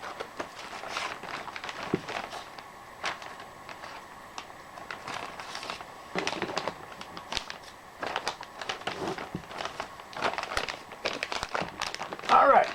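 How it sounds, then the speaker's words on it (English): Plastic crinkles and rustles continuously at close range, with rapid crackling bursts that swell and ease as the bag is handled. "we'll just put it in a McMaster car bag"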